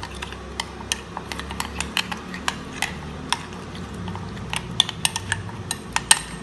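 Small clinks and ticks of a utensil scraping a bowl as paprika, garlic, ginger, chicken bouillon, oregano and pepper seasoning is mixed for beef steak, irregular light taps close by in a quiet kitchen, no talk.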